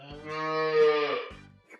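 A cow in a calf shed on a farm gives one loud, close, drawn-out moo, with no talking.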